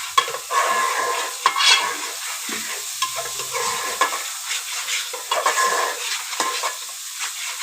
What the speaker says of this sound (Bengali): এখানে আছে রেগুলার সব মশলাগুলা দিয়ে দিলাম, এগুলাকে ভালো করে ভেজে নিচ্ছি।